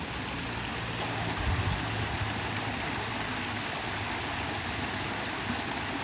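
Steady broadband rush of water flowing beside a path on an evening walk, loud and continuous with no voices, a low rumble underneath throughout.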